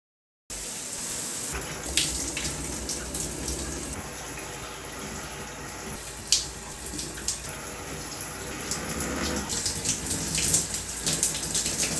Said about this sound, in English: I immediately take a shower